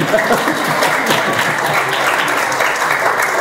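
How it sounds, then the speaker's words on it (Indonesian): Sustained applause from the congregation at a night gathering marking Isra Mi'raj, a steady dense wash of clapping throughout with faint voices mixed in. "Tepuk tangan dong buat Pak Asep dan tim."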